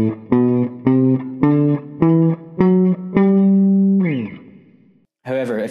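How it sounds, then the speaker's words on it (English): The Ionian mode of the major scale played note by note on an electric guitar with effects: seven evenly spaced ascending notes, the last held longer, loud and close, followed by a brief voice. "For example, the first mode of the major scale is Ionian"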